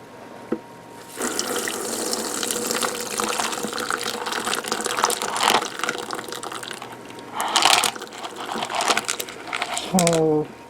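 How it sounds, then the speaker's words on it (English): Gritty water from a rock tumbler, used to polish a first batch of crystals, runs through a sifter in a steady splashing stream for most of the stretch, with a louder gush near the end and brief handling clatter. "We're going to take this juicy grit water and pour it through a sifter."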